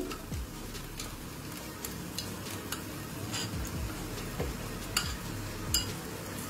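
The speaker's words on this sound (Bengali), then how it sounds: "এখন আমি দিয়ে দিচ্ছি এই মিশিয়ে রাখা সমস্ত মশলাগুলো" Mixed spices stirred into onion, ginger and garlic frying in oil for potol korma, with faint sizzling and intermittent light clicks of a spatula against the pan, quiet and close.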